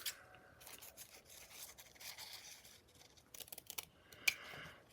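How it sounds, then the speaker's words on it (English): Scissors trim a paper book page for a flower tag, faint close snips and paper rustling, with a small cluster of cuts near the end. "I am going to trim it down here."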